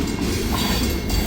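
An Escanaba and Lake Superior Railroad train passes at speed, a loud, steady rush and rumble of wheels and cars that fills the whole stretch with no voices.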